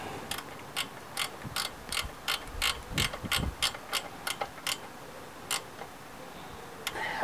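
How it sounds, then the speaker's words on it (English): A ratchet clicks in quick bursts as the timing belt tensioner bolt on a Mitsubishi 3000GT is tightened, with crisp close-up pawl ticks in steady runs and short pauses, plus a couple of dull metallic knocks, no voices. "When we have approximately 10 millimeters of deflection here in either direction, now Vince can tighten it up."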